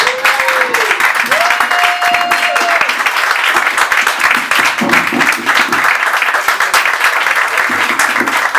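Comedy club crowd applauding comedian Jon Gelberg at the end of his set, dense sustained clapping with a few whoops rising over it.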